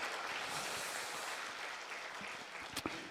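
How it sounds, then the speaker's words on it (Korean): A church congregation claps for the choir, conductor and accompanist during a Sunday worship service, a steady, distant wash of applause that stays faint throughout, with a couple of louder claps near the end. "우리 수고하시는 지휘자 또 반주자 또 우리 성가대원분들에게 큰 격려 박수 한번"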